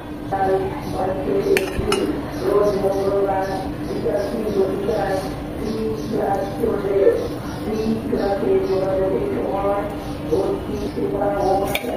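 Dishes and cutlery clink now and then as biryani is served into a serving dish. The clinks are soft and scattered beneath steady talking.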